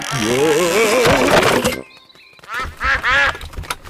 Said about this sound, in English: The ducks are running through Daddy's paint.